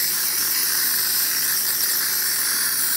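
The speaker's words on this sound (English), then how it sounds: "You can see the steam coming out of the machine." A Gaggia Titanium espresso machine with a leak at the back lets off a loud, continuous hiss of steam that holds steady throughout, with no voices.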